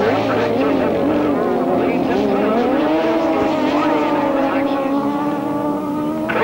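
Several grasstrack sidecar outfits scream away at the start of a race at a 1994 British Masters qualifier in Yorkshire, engines climbing in pitch together, loud and continuous, with a commentator's voice faintly underneath.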